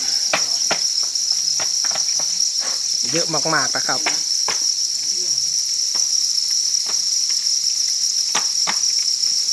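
Dense chorus of crickets in a Thai cricket-farming pen with egg-tray shelters, a constant shrill chirping drone throughout, with scattered rustling clicks and someone speaking briefly.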